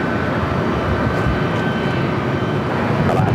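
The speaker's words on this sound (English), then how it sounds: "Another Delta 757." A Delta Boeing 757-300 at LAX produces a loud, steady broadband engine roar that holds throughout at close range with no let-up.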